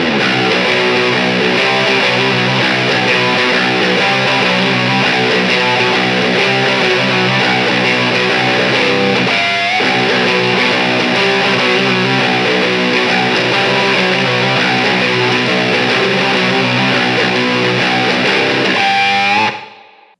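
A loud, heavily distorted seven-string electric guitar plays a grooving, low-tuned riff for about twenty seconds with no talking, then cuts off abruptly.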